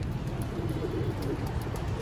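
Pigeon cooing near a bird trap outdoors, low soft repeated coos running steadily under a constant background hiss.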